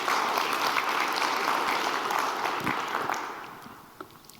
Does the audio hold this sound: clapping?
yes